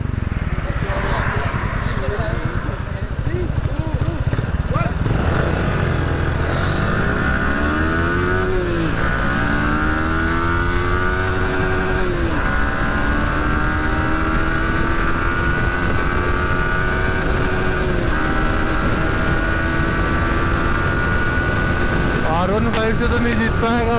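A Yamaha R15 and a Royal Enfield Meteor motorcycle drag race side by side, engines revving and climbing through gears in repeated rising whines, loud and close throughout, with people talking over them.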